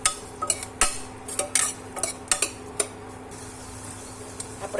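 A spoon stirs a Gujarati-style long beans and potato curry in a pan, giving a run of sharp metallic clinks and scrapes at an uneven pace, close and clear, with no talking.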